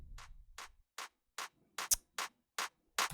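Drum machine clap sample repeating in a steady even rhythm, starting faint and growing louder as it fades in, sharp isolated hits with no talking.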